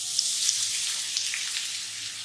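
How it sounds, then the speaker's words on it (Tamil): Grated carrots for carrot halwa sauté in a pan, giving a soft, even sizzle that runs steadily at low volume with no talk. "இப்போ அதே கீழ கேரட்ஸை ஆட் பண்ணி வதக்கிக்கலாம்."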